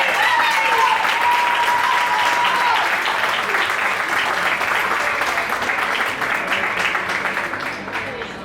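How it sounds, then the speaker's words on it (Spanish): A crowd at a women's All-Star football match in Lugo claps loudly and continuously, with whistles and some voices over the sustained applause before it begins to fade. "Forte aplauso para as xogadoras."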